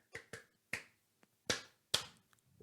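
Five sharp hand claps land in an uneven rhythm, fairly quiet and close in an otherwise silent room, followed by a few fainter taps.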